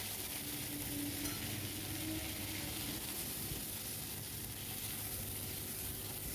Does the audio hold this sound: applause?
no